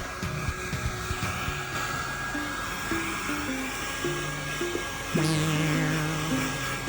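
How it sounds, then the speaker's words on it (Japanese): A hair dryer blows steadily on a pug at close range, a continuous whooshing hum that grows louder for the last couple of seconds, with soft varied tones layered over it and no speech. "ドライヤーをしてもらいました。"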